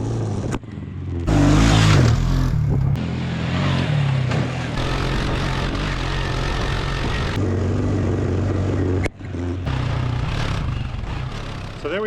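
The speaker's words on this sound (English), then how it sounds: "The quad I bought that doesn't turn on anymore now runs and drives pretty nicely." An Arctic Cat 300 4x4 ATV, recently revived after failing to start, runs and drives with a loud buzzing engine drone close by. The throttle rises and falls, with a couple of abrupt brief dips.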